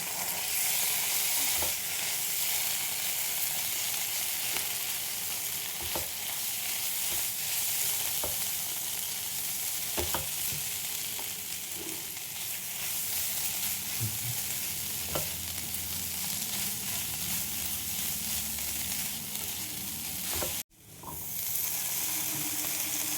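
Cabbage, tomato, egg and onion fry with a spoonful of tomato sauce in a pan, giving a steady, fairly loud sizzle with occasional stirring scrapes throughout and a brief dropout near the end.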